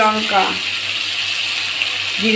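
Water is poured into a pan of fish kalia curry, a steady close hiss of flowing liquid lasting a couple of seconds, with a voice speaking briefly at the start and end.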